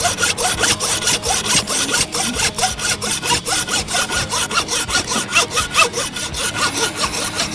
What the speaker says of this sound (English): So you can actually cut the antler off.